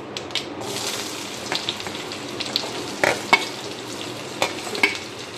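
Chopped onions hit oil just after the spice tempering has crackled for a restaurant-style palak paneer, with a dense, continuous sizzle. Frequent stirring scrapes and clinks of the spoon run through it.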